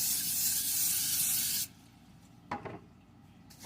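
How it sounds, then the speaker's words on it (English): A can sprays oil over the top of pizza dough sitting in a bowl: one loud, steady hiss lasting about a second and a half, cut off abruptly, then a brief quieter spritz, with no talking. "Spray the top as well."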